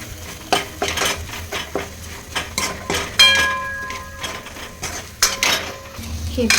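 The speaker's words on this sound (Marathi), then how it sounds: "त्याला छानसं परतून घेऊया. त्यानंतर पूर्ण मिक्स करू." Vegetables being sautéed and stirred in a pan with black masala while puri bhaji is made, heard as repeated scraping and clinking of a utensil against metal with a faint sizzle underneath and some brief talk.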